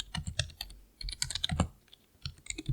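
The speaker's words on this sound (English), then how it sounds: "I type slow whenever I'm actually typing something that's on screen." Typing on a SteelSeries Apex 3 budget gaming keyboard: close, quiet clusters of soft key clicks in short uneven bursts, slow and irregular, with no voices.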